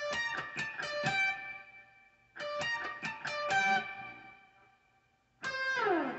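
Distorted electric guitar plays a riff from a song, ringing sustained chords and picked notes in three separate phrases with pauses between them, alone and fairly quiet.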